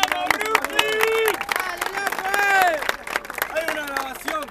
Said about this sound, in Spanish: Un aplauso para Brooklyn. ¡Bravo, Brooklyn!